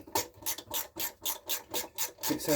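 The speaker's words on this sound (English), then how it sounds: "So it cuts its own thread in the aluminium." Hard Tamiya screws cut their own threads into aluminium chassis rails drilled 2.5 mm for a scratch-built tri-axle trailer, giving eight or nine rhythmic rasping grinds, close and fairly quiet, with no talking.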